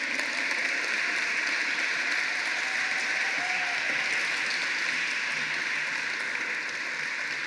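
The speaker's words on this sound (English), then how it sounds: "Let's give him a round of applause." Steady round of applause from a ceremony audience welcoming Cleveland Mayor Bibb to the stage at a Carl B. Stokes Day event, dense and continuous clapping filling the whole stretch at even loudness.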